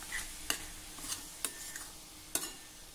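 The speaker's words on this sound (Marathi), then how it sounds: "आता हे सर्व साहित्य आपल्याला जरा परतत राहायचं आहे।" Mango modak filling being stirred and sautéed in a pan, with a few sharp spoon scrapes and taps against the pan over a faint sizzle, moderately quiet, no talking.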